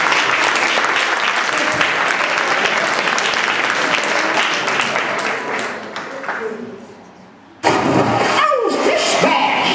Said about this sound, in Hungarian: Nagy tapsal biztassuk Kende Balázs és Béres Dorinát.